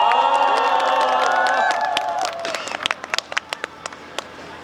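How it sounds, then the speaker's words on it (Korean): Applause and cheering from a crowd at a candlelight citizens' rally in Incheon, clapping densely at first and then thinning out to scattered claps, with voices in the crowd underneath. "큰 박수 쳐주시기 바랍니다."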